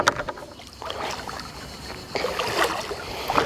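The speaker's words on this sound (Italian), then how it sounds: "spingeremo leggermente avanti il kayak, giusto per farlo scivolare dopo" A Hobie Passport 12 kayak being pushed forward on sand into the water, with scraping hull and sloshing splashes in close, uneven bursts; no talk is heard.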